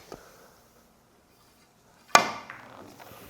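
In a three-cushion billiards back-spin shot, a cue strikes the ball with a single sharp crack after near silence, followed by a few softer clicks of balls colliding, with no talking.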